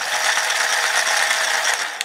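Dye Rotor paintball loader's internal rotor and paddle turning, giving a steady, close mechanical ratcheting whir that holds evenly for about two seconds, then cuts off with a small click.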